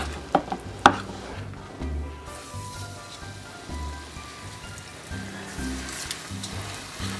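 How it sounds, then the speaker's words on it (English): Chicken wings for sweet, sour and hot wings fry in vegetable oil heated to about 350 degrees, making a continuous bubbling hiss with a few sharp knocks at the start and no talking. "and then we'll begin frying"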